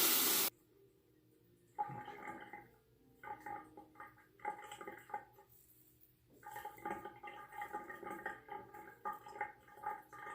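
A Fatip Piccolo razor is rinsed under a running tap, with an initial rush of water followed by intermittent splashing bursts as the blade is held under and pulled from the stream.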